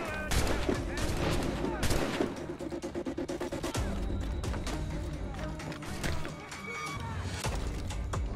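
Repeated musket volleys in Assassin's Creed Rogue, aimed at redcoats: dense, crackling shots rolling on without pause, loud and close. Shouted voices sit under the gunfire and there are footfalls.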